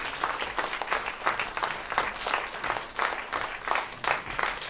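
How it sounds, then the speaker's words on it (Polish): Audience applause at a patriotic independence recital in Poland, a steady mid-sized crowd clapping continuously with dense overlapping claps and no speech over it. "Wielkie brawa"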